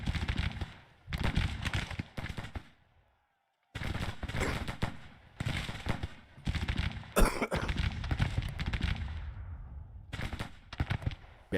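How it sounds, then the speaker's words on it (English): A person has a coughing fit, harsh repeated coughs in bursts, heard together with the sharp gunfire and cannon blasts of a Gettysburg battle in the strategy game Grand Tactician, with one brief silent gap. "Bad time for a coughing fit."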